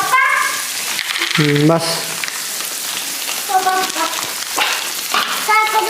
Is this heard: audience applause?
no